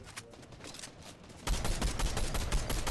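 Gunfire in Fortnite, faint rapid shots at first that suddenly turn loud and close, with dense bursts of cracking reports filling the rest.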